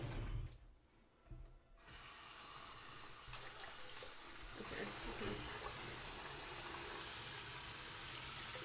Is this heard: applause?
no